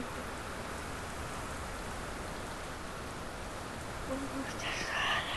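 Steady rain hisses as a constant, even wash of noise in the video game Minecraft, with a faint tonal blip and some brighter sounds near the end.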